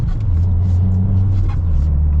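A turbocharged 2023 Subaru WRX engine revs from inside the car, a low droning hum holding steady and then stepping up in pitch for about two seconds, close and fairly loud.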